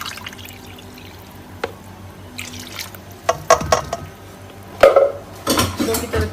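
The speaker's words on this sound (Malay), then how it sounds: "saya gunakan 2 cawan air pandan yang dah saya blender dan saya tapis" Strained blended pandan water poured for a cooking recipe, with liquid splashes and drips against a bowl or pot and light clinks of kitchenware, sparse at first and then busier near the end.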